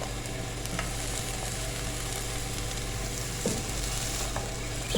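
Julienned capsicum and other vegetables stir-frying in a hot pan, a steady close sizzle with soft stirring scrapes throughout and no talking.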